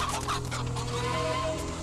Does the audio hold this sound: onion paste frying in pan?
no